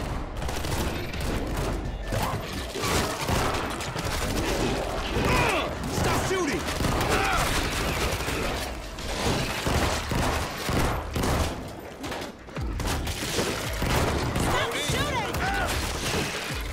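Dense, continuous gunfire from the zombie shooter World War Z, with rapid overlapping shots and crashing impacts running almost without pause. Players shout to each other over the barrage.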